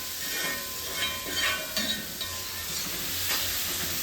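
Bitter gourd sautéing in a pan, a steady close sizzle and hiss with faint stirring scrapes and no voices.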